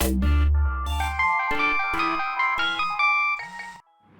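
A phone rings with a bright melodic ringtone, a run of repeated tonal bursts that cuts off abruptly at the end.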